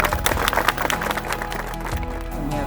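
Wedding guests applaud after the couple is declared married during the ceremony, a dense steady clapping that fills the room for a few seconds with faint voices mixed in.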